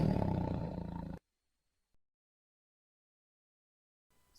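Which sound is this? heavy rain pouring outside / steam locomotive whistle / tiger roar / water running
tiger roar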